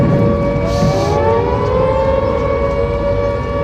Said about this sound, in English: I can hear those sirens.